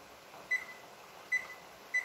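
Three short, high electronic beeps sound at steady intervals over a faint background hum, like buttons pressed on a kitchen timer.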